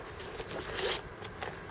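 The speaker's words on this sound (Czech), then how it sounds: "Taktéž vybavené kvalitními zipy z tuhého materiálu." Zipper of stiff, heavy-duty material drawn along an NGT carp fishing tackle case, one continuous quiet rasping pull with a brief louder scrape near the middle.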